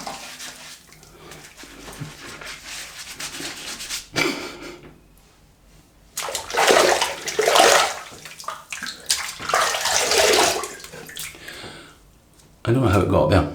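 Tap water runs and splashes in bursts at a basin as a face is wetted before a shave, loud and close with pauses between, while someone talks.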